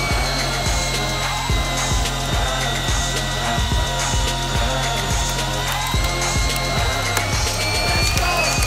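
A Bosch Biturbo cordless power tool drives a bit into wood, its motor whining loud and close with a steady pulsing hammer-like rhythm throughout.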